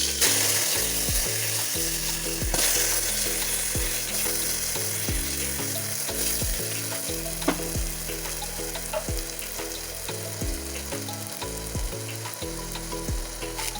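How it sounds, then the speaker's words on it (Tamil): Fennel seeds, ginger, garlic and chopped shallots fry in hot oil for a Kerala beef curry, giving a loud, steady sizzle with scattered crackles and occasional spoon scrapes throughout, no talking. "எண்ணெய் நல்லா காஞ்ச உடனே பெருஞ்சீரகம் போட்டணும். இஞ்சி பூண்டு சின்ன வெங்காயம் அரிஞ்சதை வணக்க போடணும்"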